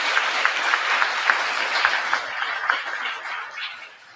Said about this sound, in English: So that deserves applause.